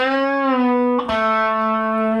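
Distorted electric guitar playing a short phrase of a riff, a sustained bent note, a quick pick attack midway, then a ringing held note, loud and alone.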